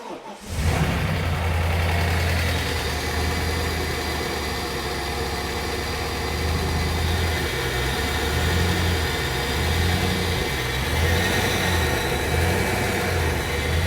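A modified Audi C5 RS6 engine runs with its intercooler pipe removed, a loud, steady, rough idle with a low throbbing rumble and a hissing, airy roar. It starts up abruptly at the beginning, then holds constant for the rest of the clip.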